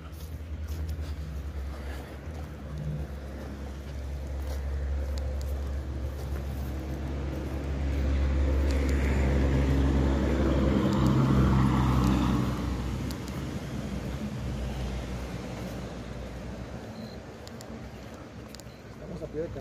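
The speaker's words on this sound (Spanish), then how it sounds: "Estamos a pie de carretera, amigos, por eso se escuchan muchos vehículos." Steady roar of cars and trucks on a roadside highway, a continuous low rumble swelling as a heavy vehicle passes close mid-clip, with people talking nearby.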